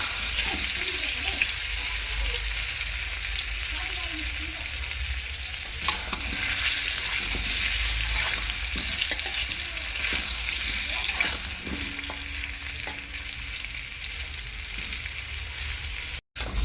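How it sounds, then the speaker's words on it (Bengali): Potatoes fry in a pan until reddish-brown with a steady, close sizzle, broken now and then by soft scraping and stirring sounds. "আলুটা একটু সুন্দর করে ভেজে নিতে হবে লালচে লালচে করেই ভাজবো আমি"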